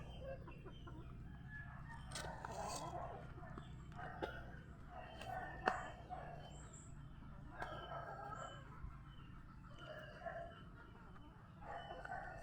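Chickens on a poultry farm with fruit trees cluck repeatedly while a rooster crows, the birds fairly close but quiet overall, with rustling and scattered calls throughout.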